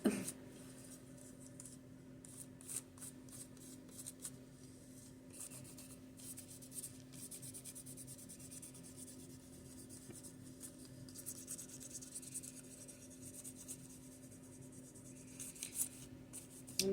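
A napkin is rubbed gently onto a coaster, making soft, repeated scratchy swipes close by over a faint steady hum, with no talking.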